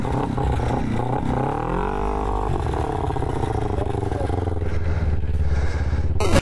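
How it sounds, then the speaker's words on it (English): Kids rev a biker's motorcycle, a loud close engine with throttle blips that rise and fall over a steady low idle rumble, with faint clatter near the end. "Biker just made these kids' day by making them rev his bike."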